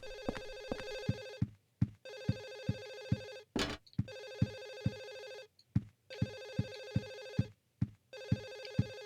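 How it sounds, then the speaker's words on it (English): A telephone rings in Silent Hill 4, repeated bursts of a metallic trilling bell separated by short silences, about four cycles, steady and fairly loud with faint rhythmic thumps underneath. "Still haven't found that damn phone ringing."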